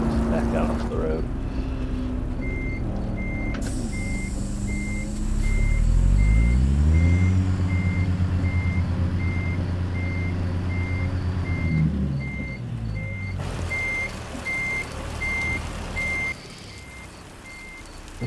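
Truck reversing beeps in American Truck Simulator, a steady evenly spaced alarm repeating through most of the clip over a low rumbling diesel engine that revs up midway.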